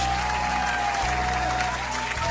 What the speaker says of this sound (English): So round of applause for Carnival Cruise.